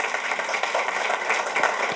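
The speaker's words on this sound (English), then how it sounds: "And if we can get a round of applause." A school board meeting audience gives a round of applause for a Lakeland Senior High School student and his principal, a steady, dense clapping that fills the room without pause.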